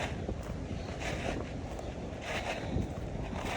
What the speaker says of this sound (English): It's very windy today. Very, very windy.